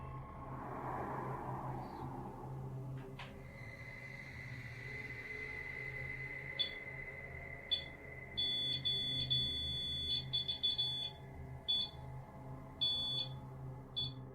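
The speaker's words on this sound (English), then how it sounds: "movement is heard, and the REM pod goes off again" A REM pod ghost-hunting device sets off repeated electronic alarm beeps in short bursts, starting midway and recurring over a low steady background hum, fairly loud and close, with no talking.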